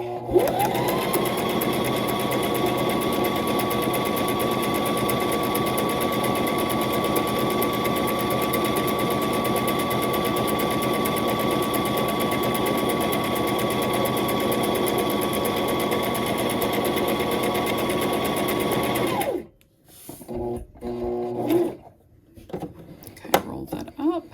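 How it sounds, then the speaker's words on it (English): A sewing machine runs a zigzag stitch for about twenty seconds in a steady, fast, even whir close up, then stops abruptly, followed by a few clicks and handling noises. "I'm going to roll that needle forward with my hand wheel, and I'm going to start sewing."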